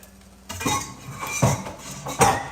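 Pans and utensils clatter in a home kitchen as omelet egg mixture goes into a hot pan, a few sharp metallic clinks and scrapes spaced over a couple of seconds.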